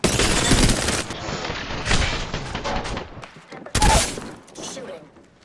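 Video game gunfire in rapid loud bursts, a sustained volley early on, then scattered shots and a second heavy burst near the end, with game effects mixed in.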